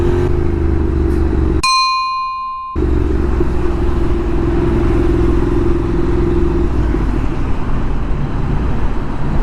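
A motorcycle ridden on a city road, its engine a loud, close, continuous rumble that cuts out briefly to a tone before the steady roar of riding returns.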